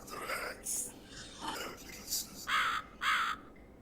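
Crow caws from The Cat Lady video game, several short harsh calls in a row, the last two louder and nearer, with faint voice-like murmuring between them.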